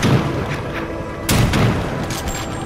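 Gunfire in Evil Dead: The Game, a few loud booming shots with one sharp blast standing out partway through over a constant noisy game backdrop.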